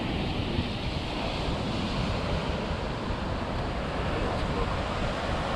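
Ocean surf breaking on the shore near tide pools on a hot afternoon, a steady loud roar of pounding waves with wind noise on the microphone throughout.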